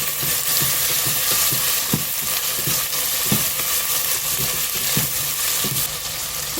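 Green chillies frying in a pan with crushed shallots for a mango fish curry, a loud, even hiss of oil with regular knocks of a stirring spoon.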